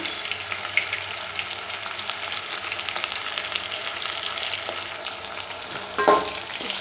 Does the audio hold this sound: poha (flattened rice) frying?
yes